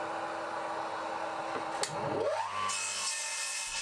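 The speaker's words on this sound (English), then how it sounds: "But when I made the cuts at the mitre saw," Mitre saw blade cutting through a wooden snooker cue with metal inside, a gritty rasping cut with a sharp snap partway through, then the motor winding down while a hiss continues.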